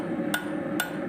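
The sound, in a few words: rounding hammer striking metal while forging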